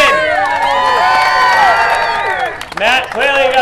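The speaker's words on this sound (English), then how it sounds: "How about a round of applause for 14-year-old Matt Swanson?" A crowd at a motorsports victory lane cheers, whoops and applauds loudly for a 14-year-old driver's first career modified race win, with shouting voices over the clapping and a brief dip before the cheering swells again.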